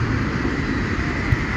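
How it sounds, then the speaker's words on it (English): A train passing nearby but out of sight in an outdoor natural setting, heard as a steady, loud broadband rumble with strong low-end roar, continuous throughout and with no voices over it. "That's the sound of the train, guys, but you can't see it."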